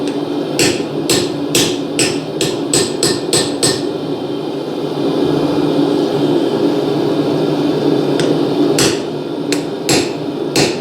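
A hammer rings out loud, sharp blows on a top chisel cutting hot steel at the forge, a quick run of strikes followed by a pause, then a few more spaced hits over steady background noise.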